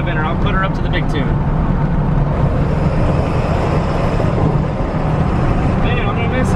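A truck engine rumbles steadily while driving, a loud, continuous low drone with road noise, and voices are heard talking over it.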